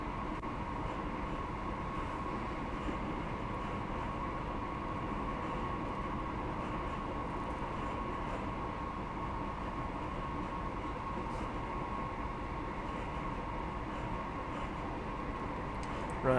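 A Class 158 diesel train runs through a tunnel in Train Simulator Classic on the Hope Valley line, giving a steady, enclosed engine drone and rumble with a constant hum, unchanging throughout.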